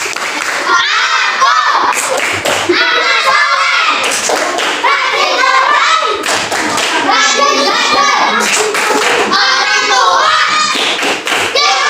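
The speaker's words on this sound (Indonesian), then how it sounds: "Tepuk tangan, tepuk tangan, tepuk tangan." Schoolchildren in a classroom clap their hands together in loud, rapid bursts mixed with thumps and excited shouting. Children's voices talk and yell over the clapping.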